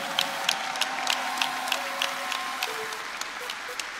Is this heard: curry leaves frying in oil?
no